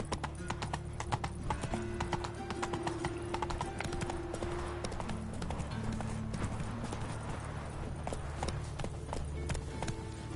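The horse Roach galloping in The Witcher 3: Wild Hunt Complete Edition on PS5, rapid steady hoofbeats with an occasional whinny and game ambience beneath, continuous and close.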